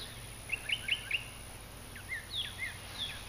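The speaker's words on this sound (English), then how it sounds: "There's just the birds singing" Several birds sing in a quiet garden, with short bright chirps in two loose bursts over a faint steady background hiss.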